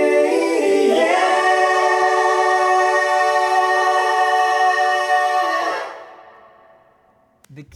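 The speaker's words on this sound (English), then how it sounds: "stack that kind of helps transition that energy into the soaring guitar" Soaring electric guitar solo at a raised tempo, over a dense sustained stack, loud and full for about six seconds before cutting off and decaying into near silence.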